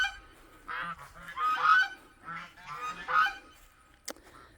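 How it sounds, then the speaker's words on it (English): Geese honk loudly and close by in a farming setting, several raucous calls overlapping in bursts with short pauses between them. "These crazy geese."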